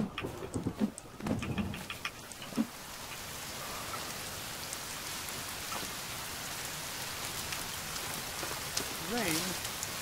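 Steady rain falling in a forest, a dense even hiss of drops on surfaces that runs throughout, with a few louder knocks and rustles near the start and a faint voice near the end.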